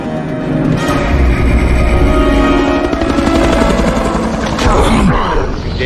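Military helicopter from the 2003 film Hulk opening fire with its machine gun, loud rapid bursts over the heavy thump of rotor blades and dense battle noise throughout.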